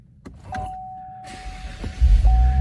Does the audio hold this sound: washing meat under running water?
no